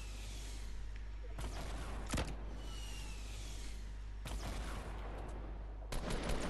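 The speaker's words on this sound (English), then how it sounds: "tactical submachine gun is so quick to fire" A tactical submachine gun in the Fortnite video game fires rapidly in several short, sharp bursts, with a few quieter game sounds between them.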